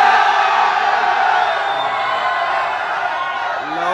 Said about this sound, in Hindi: होटल के बाहर भी भीड़ है वहाँ भी भीड़ है